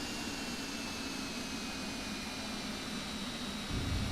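MD-80 JT8D jet engines in the X-Plane 12 flight simulator give a steady, loud roar with a high whine on top, swelling with a deeper rumble just before the end.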